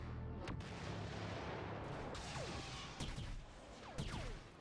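Blaster and gun fire in the Star Wars Battlefront beta, several sharp shots and booms over a dense, continuous roar of battle noise, loud and steady throughout with no talking.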